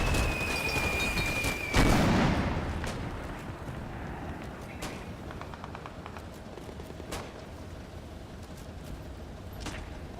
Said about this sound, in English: the mortars start landing around it just for good measure